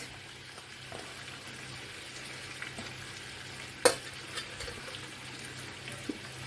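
Chicken pieces with capsicum and onion fry in a pan, giving a continuous soft sizzle with occasional stirring scrapes and a sharp clack of a utensil against the pan partway through.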